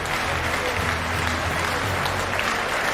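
Crowd applause at the end of a match in the Coupe de France de Robotique 2020 finals, loud continuous clapping from a large audience in a hall, with a faint murmur of voices underneath.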